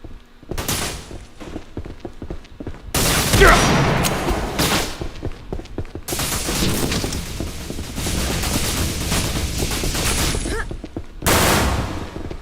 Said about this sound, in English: Boomstick. Double-barreled shotgun.